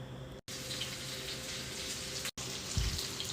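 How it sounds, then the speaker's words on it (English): Water poured from a tap into a crock pot over beans, a steady close rushing stream with two brief cutoffs and a low splash near the end. "Add water, not to cover it all up,"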